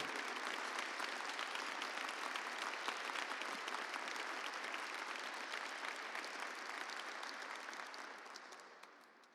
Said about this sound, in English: Please join me in a round of applause for Commander Roger Davis